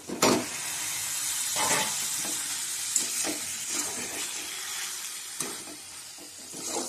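Chicken pieces frying in a spiced masala alongside pre-fried potatoes, a steady close sizzle with a few sharp stirring scrapes and crackles, no talking.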